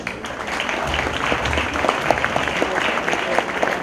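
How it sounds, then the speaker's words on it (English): An audience claps steadily in a round of applause for the St. Maarten Academy at a ceremony, with sustained dense clapping and a few murmuring voices mixed in. "A round of applause for the St. Maarten Academy."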